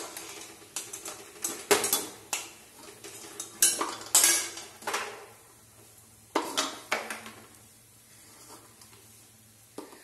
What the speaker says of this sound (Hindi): आप इसकी आवाज भी सुन सकते हैं कितने करारे से बनकर तैयार हुए हैं।